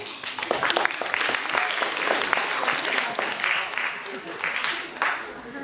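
Applause from an audience at a 2011 FCE certificate ceremony, dense steady clapping sustained throughout at fairly close range, with voices murmuring underneath.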